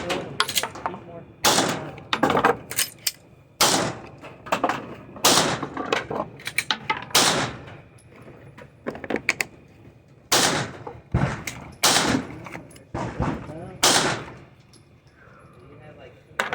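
CZ P10F pistol fitted with a Holosun 407K sight fired at an outdoor range, loud sharp gunshots at irregular intervals, some in quick pairs, from the shooter's position and nearby lanes, with voices talking in between.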